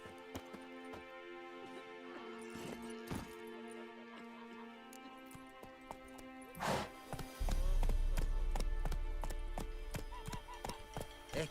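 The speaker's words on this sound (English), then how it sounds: "Come on, horsey." Horse hooves clip-clopping at a steady walking rhythm as a rider travels in The Witcher 3, soft and fairly distant beneath game music, with a louder rumbling burst partway through.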